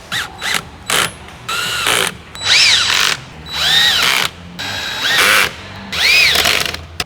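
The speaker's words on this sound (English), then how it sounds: "Now we're just gonna tighten them all up using our 10mm ratchet spanner and the 4mm Allen key Torx bit" A 10mm ratchet spanner tightens nuts and bolts while a splitter kit is fitted to a Toyota GR Yaris. Short clicking bursts come first, then loud, close, whirring runs that rise and fall in pitch.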